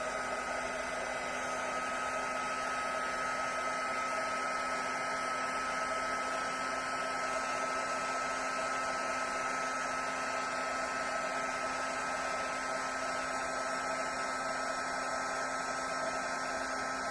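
A heat tool blows steadily while melting embossing powder on card. Its airy, hair-dryer-like drone with a faint hum runs unbroken for the whole stretch, with no voices.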